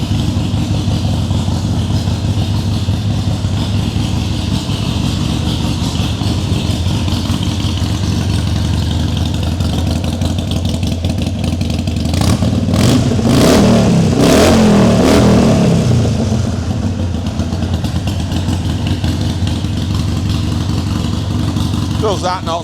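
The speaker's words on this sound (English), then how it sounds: "So that's your bike, that's your Harley Sportster 883 Iron." A Harley-Davidson Sportster Iron 883 motorcycle with a Vance & Hines exhaust idles with a steady, loud, deep rumble, then gets a burst of throttle blips and revs midway before settling back to idle, recorded close up.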